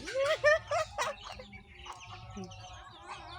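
White chickens cluck in quick, close bursts as they come running, with a few softer clucks trailing off while someone talks nearby.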